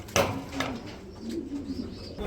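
Domestic pigeons kept for breeding give soft, low coos, faint and close, amid quiet background noise.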